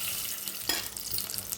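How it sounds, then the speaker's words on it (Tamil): A tablespoon of sunflower oil goes into a pan on the stove, a soft steady hiss with one brief splashy burst midway, fairly faint and close. "ஒரு தேக்கரண்டி எண்ணெய் ஊற்றிக்கலாம்."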